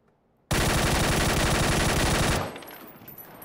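A PUBG gun fires one unbroken full-auto burst of about two seconds, very loud and dense, starting abruptly after near silence and ending in a fading echo.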